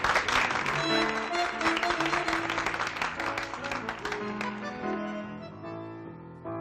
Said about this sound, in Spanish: Un aplauso para el Pardo Santillán, rey de Palermo.